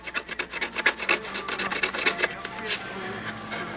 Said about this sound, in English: You're going to run a piece of sandpaper in there,